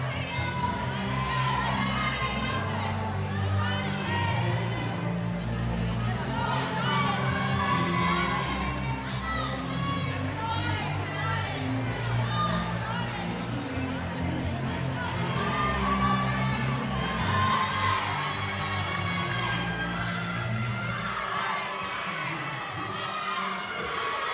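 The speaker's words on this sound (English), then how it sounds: "You can see all the other teams coming over to cheer on Peyton Smith on bars." Crowd of gymnastics teams at a women's NCAA meet cheering for Peyton Smith on the uneven bars, a steady loud wash of shouts, whoops and clapping sustained throughout with a large indoor roar.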